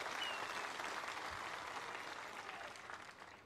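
A crowd at a Marathi election campaign rally in Indapur applauds, steady dense clapping that holds loud for a few seconds and then slowly fades, with no talk over it.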